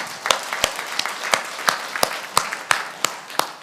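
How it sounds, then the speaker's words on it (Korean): Steady applause from a church congregation during a Korean sermon, with sharp, regularly spaced claps standing out above the general patter. "하나님께 박수를 올려드리십시다."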